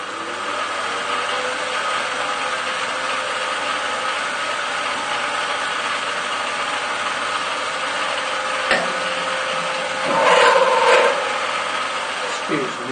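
A drill bores a 6.5 mm hole right through a machined part for a worm-wheel servo, a steady close whine and hum that holds throughout, with a brief change in pitch near the end.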